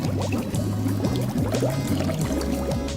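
Pool sanitizer is poured into swimming pool water, giving a close, continuous gurgling splash that runs steadily for a few seconds without any talk.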